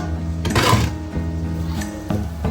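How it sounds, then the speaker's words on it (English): Vegetables stirred into a pot of Ghanaian jollof made with parboiled rice, with a spoon scraping and knocking against the pot in a few short bursts over a steady low background hum. "Add the vegetables and you stir."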